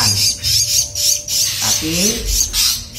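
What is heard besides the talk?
Javan myna (jalak kerbau) squawking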